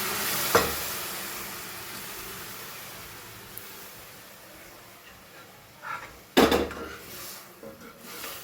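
Boiled bottle gourd and chana dal go into a cooked masala in a pot and get mixed, with soft sizzling, a couple of sharp knocks and clatters of a spoon against the vessel, and brief scraping stirs, close but fairly quiet.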